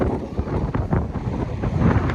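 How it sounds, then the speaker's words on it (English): Strong wind buffeting the microphone with continuous low roaring gusts, rising and falling throughout, no talking. "it's very, very windy"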